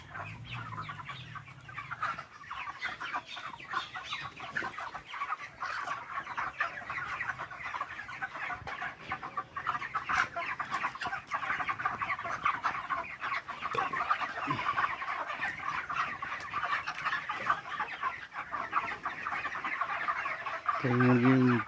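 Poultry-farm chickens cluck and murmur continuously on litter in a shed, a dense, moderately faint flock chorus with scattered louder calls and a brief close squawk at the end.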